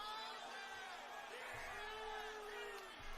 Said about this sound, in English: This crowd is rowdy as heck right now.